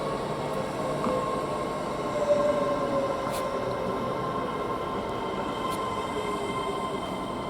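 A Class 800 train rumbles steadily at moderate distance as it arrives at Didcot Parkway station, with a low continuous drone and occasional faint metallic squeals as it rolls in.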